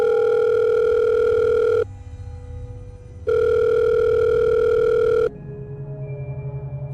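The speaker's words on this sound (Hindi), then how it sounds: "उसकी पॉकेट में रखा फ़ोन नहीं बजा।" A mobile phone tucked in a pocket rings with a steady electronic tone, sounding twice in long bursts separated by short pauses, loud and close with no voices.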